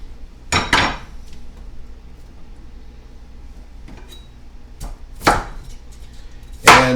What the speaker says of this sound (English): this one you want to dice nice and tight because these stems take a little longer to cook